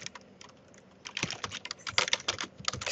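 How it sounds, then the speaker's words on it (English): Fingers type on a computer keyboard while entering text into a contact form, with light key clicks that start sparse, then quicken into a dense, uneven run of close taps. "I'll just type in your message here"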